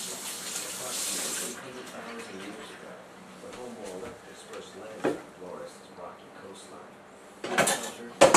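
A kitchen tap runs briefly while a potato is scrubbed, and the water stops after a second or two. A person then talks, with light clatter of pots and dishes near the end.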